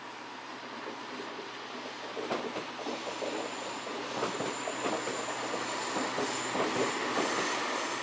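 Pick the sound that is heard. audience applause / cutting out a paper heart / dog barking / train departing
train departing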